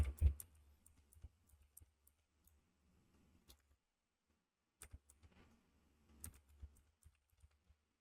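A computer keyboard is typed on in sparse, faint bursts of close clicks, separated by near-silent pauses, with no speech.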